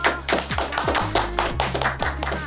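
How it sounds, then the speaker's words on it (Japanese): Studio audience claps as a guest is welcomed for a game collaboration announcement, a brief burst of sharp taps over a low steady hum with music underneath. "皆さん拍手"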